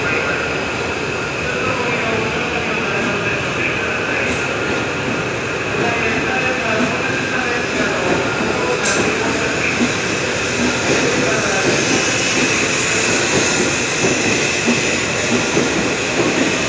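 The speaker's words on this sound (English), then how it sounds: "Train on platform 21 is departing" A Shinkansen bullet train departs a platform at Tokyo station, a steady, loud rushing rumble of rolling stock that holds evenly throughout, with a faint station chime near the middle.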